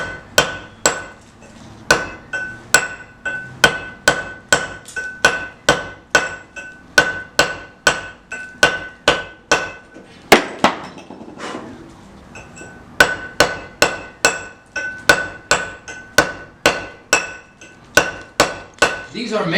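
A hammer repeatedly striking a masonry chisel into stone, giving sharp metallic rings in a steady rhythm of close, loud blows with brief pauses between bursts.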